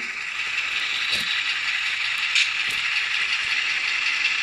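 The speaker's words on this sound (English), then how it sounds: "And there it's moving at throttle notch 2." An Athearn Genesis GP7u Topeka cab model locomotive runs at throttle notch 2, giving a steady whirring mechanical hum with a few faint clicks and ticks throughout. No one speaks.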